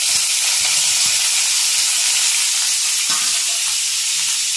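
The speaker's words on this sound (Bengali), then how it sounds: "এবার এর মধ্যে দিয়ে দিচ্ছি পেঁয়াজ কুচি।" Chopped onion hitting hot oil in a wok that already holds fried whole garam masala, giving a dense, continuous sizzle with a few soft utensil clinks over it. No one speaks.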